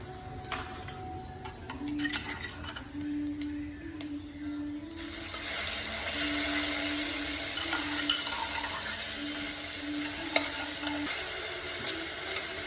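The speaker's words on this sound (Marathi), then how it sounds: "तेल टाकून घेऊ, त्यानंतर जिरे टाकू आणि आपण केलेला मसाला" Cumin seeds and a spice mix hit hot oil in a pan, and a close, steady sizzle bursts in partway through, after a quieter stretch of light stirring and ticks, with occasional utensil clicks.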